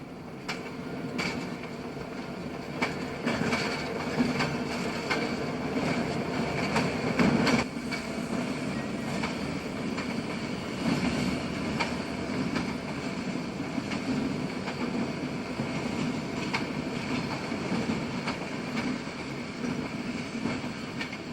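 Montpelier turn local freight train passing close by, a steady rolling roar with rhythmic clickety-clack of wheels over rail joints and faint squeal, continuous for the whole stretch.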